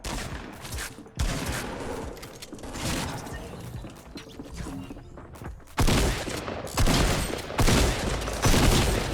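Bursts of rapid automatic gunfire from a Fortnite Battle Royale match rattle in several loud volleys separated by brief lulls, with a player occasionally speaking over the action.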